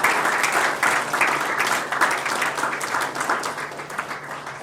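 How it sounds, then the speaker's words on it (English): Applause from an audience at a football awards night for a winning player, dense and steady clapping sustained throughout without speech. "We have a big round of applause for Thomas Adams"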